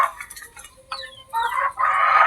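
Hens cluck and call loudly up close, with rising squawks and a drawn-out crow-like cry.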